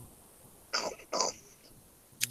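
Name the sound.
coughing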